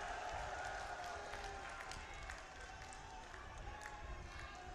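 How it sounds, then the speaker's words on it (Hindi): A crowd at an outdoor public meeting in Bulandshahr claps in a broad, distant wash of applause with scattered cheering, steady over the few seconds and fairly faint. "देखिए उधर उधर भी लोग तालियां बजा रहे हैं"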